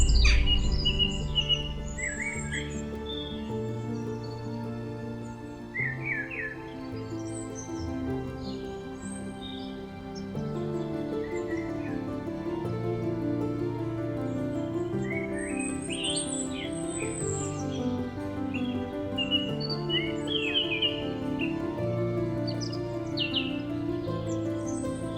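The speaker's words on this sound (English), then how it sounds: "Loving the bird song this morning." Morning birdsong outdoors, several birds chirping and trilling at a moderate distance, scattered calls continuing steadily with no voices.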